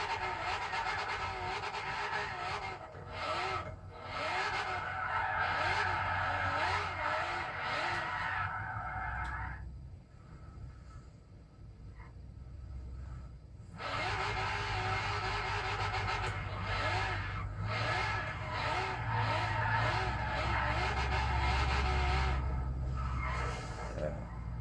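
A drift-built car in the Forza Horizon 3 racing game slides with long, wavering tyre squeal over a running engine. A short quieter lull interrupts it before the squeal and engine noise return strongly.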